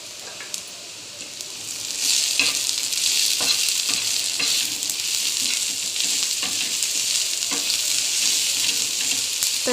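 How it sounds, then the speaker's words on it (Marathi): Onion sizzles in hot oil with salt and red chili powder, a constant bright, close crackle broken by repeated scraping stir strokes throughout. "कांदा चांगला लाल होईस्तोवर त्याला परतून घेऊ."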